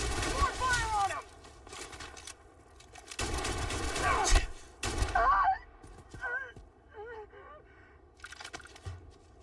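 Bursts of gunfire in the video game Starfield, with rapid overlapping shots in several loud volleys, then a few scattered reports and swishing effects.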